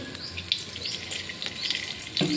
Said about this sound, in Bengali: পেঁয়াজ বাটাটা দিয়ে দেবো, পেঁয়াজ তেলে ভাজা ভাজা করে দেবো।